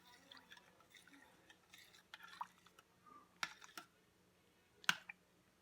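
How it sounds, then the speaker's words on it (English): A spoon stirs dry bean soup in a pot, giving sparse, faint clinks and taps at irregular intervals, with two sharper knocks near the end against a quiet background. "I'm going to stir it up and see how it looks."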